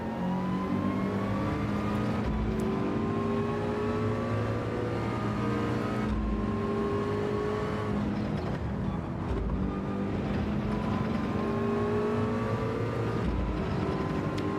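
A car engine in Gran Turismo 7 drops through gears, its steady tone falling and then rising in repeated sweeps, with sharp breaks at each downshift around the start, middle and end, loud and continuous throughout.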